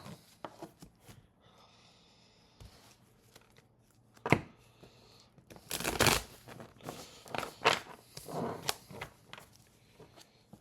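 Tarot cards being shuffled in quiet short bursts of riffling and tapping, with brief louder flurries in the second half, close and soft with no talk.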